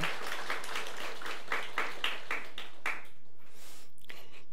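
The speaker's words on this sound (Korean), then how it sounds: "우리 격려의 박수를 받고 있죠" A church congregation claps in encouragement after a hymn, a brief burst of applause that thins out into a few scattered claps before fading to quiet.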